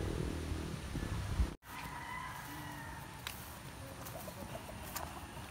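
Gamefowl roosters in a game farm breeding pen give low clucks and short calls at moderate distance, set against a faint steady background hum, with a brief dropout early on.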